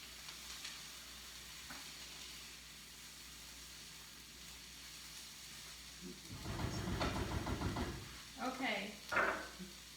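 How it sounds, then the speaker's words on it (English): Onions sautéing in a pan give a faint sizzle that swells into a louder burst of stirring and scraping toward the end, with a few brief clattering knocks. "I'm going to stir my onions real quick"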